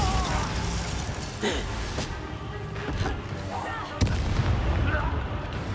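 A Bombarda blasting spell explodes during a fight in Hogwarts Legacy, with a sharp, loud bang cutting through dense, rumbling battle noise and scattered bursts.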